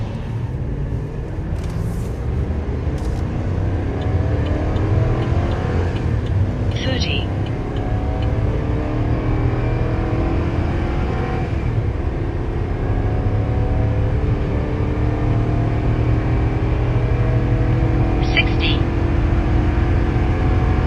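GMC Sierra 3500 pickup with a gas L8T V8 and Allison transmission towing up a steep grade, engine droning loud and steady at high revs for the whole stretch, with heavy road and cabin noise.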